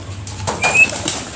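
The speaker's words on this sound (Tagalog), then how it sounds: "Magpaparonda ako ng kalapati." Pigeons taking flight, a quick burst of flapping wings close by, a few fluttering beats over about a second, with a faint low coo just before.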